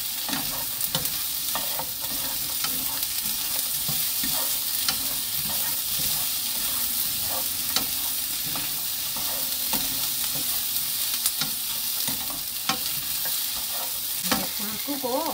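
Sliced cucumber and red chili stir-fry in a hot pan, giving a steady close sizzle with frequent scraping stirs throughout and no talking.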